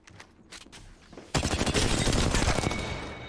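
Gunfire from the video game Apex Legends erupts suddenly after a quieter stretch, becoming a loud, sustained burst of rapid shots that continues to the end.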